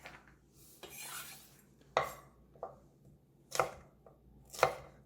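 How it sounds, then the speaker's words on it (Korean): A knife slices chestnuts into 1 cm pieces on a cutting board for soemeori-tteok rice cake, making about five sharp, separate chops with quiet gaps between them and no voices. "나머지 밤은 대추처럼 한 1cm 정도 크기로 썰어주시면 되겠습니다."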